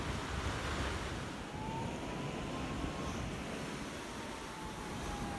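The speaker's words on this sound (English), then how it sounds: "We are at the ocean in Santa Cruz, California." Ocean surf at Santa Cruz, California, a continuous broad roar of waves with wind buffeting the microphone, steady and fairly loud with no voices.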